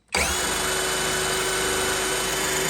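Hyper Tough 12 volt cordless drill switched on and running at high speed, a sudden onset into a loud, steady high-pitched motor whine with a constant tone, alone without talk.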